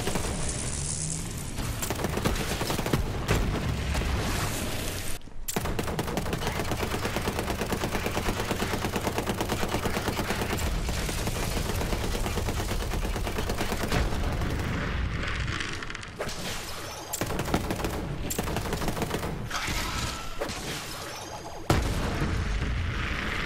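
Sustained gunfire in the video game Borderlands 3: dense rapid automatic bursts with heavy booms, loud and continuous for long stretches, broken by a few short pauses, with no talk.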